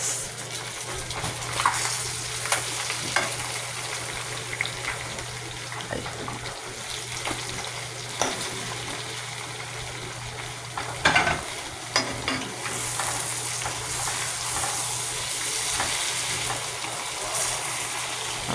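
Fish fries in a pan and is flipped partway, a continuous crackling sizzle with scattered scrapes and clatters from the turning, one sharper burst of spitting oil near the middle.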